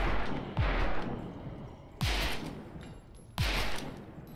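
Three heavy gunshots in a video game shooter, each a loud booming blast with a trailing rumble, spaced about a second and a half apart.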